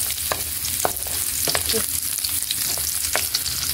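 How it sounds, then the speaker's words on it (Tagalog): Sliced onions sizzle steadily in a pan on a gas stove, with a spoon scraping and clinking as they are stirred, several sharp knocks standing out over the constant close frying hiss. "So, ilagay na po natin yung sibuyas."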